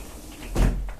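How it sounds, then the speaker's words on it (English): A bedroom door opens or closes with a single soft thud midway, preceded and followed by low room noise, fairly quiet and alone. "And my room door."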